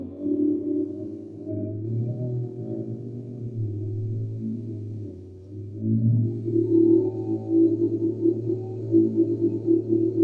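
A Boss RC-505 MKII loopstation's OSC Bot sequencer plays a looped vocal "ah" sound as a low, droning, pulsing pattern of steady tones, continuous and moderately loud with a rhythmic swell in the second half.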